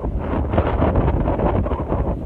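Strong wind buffeting the microphone, a loud continuous low rumbling roar with gusty fluctuations throughout, no voices heard.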